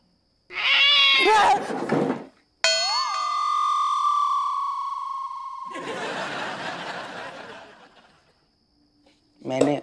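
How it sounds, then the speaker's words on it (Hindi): A cat meows loudly and close by, a long drawn-out cry framed by other bursts of sound and brief pauses. "वो बिल्ली ने थोड़ा डिस्टर्ब कर दो मुझको"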